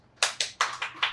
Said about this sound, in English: We'll applaud for the host's answer and the guest's answer.